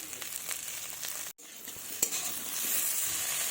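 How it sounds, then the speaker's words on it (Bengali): Spices fry in a pan for a papaya and drumstick dish, a steady sizzling crackle with stirring scrapes. It cuts out briefly about a third of the way in, then returns with a sharp click and grows slightly louder. "আমার মশলাটা ভালোভাবে ভাজা হয়ে গেছে"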